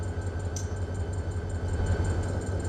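Diesel locomotives running light with no train attached in the Run 8 train simulator, a steady low engine rumble with faint rail hum, continuous and fairly close, with no talk.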